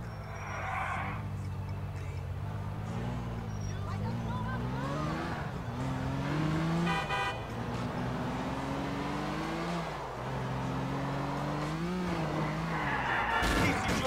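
Stolen car driven hard in Grand Theft Auto IV, with a steady engine drone that rises and falls through gear changes, tire squeals and a rough burst near the end as it crashes, loud and continuous throughout.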